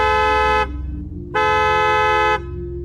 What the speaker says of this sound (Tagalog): bumusina ka ng ilang beses para maglabasan ng mga tao dito sa baryo at makita nila yan